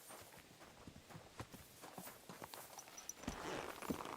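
A horse's hooves clop in a quick, steady rhythm while it is ridden in the medieval video game Kingdom Come: Deliverance II. The hoofbeats are quiet and grow slightly louder near the end.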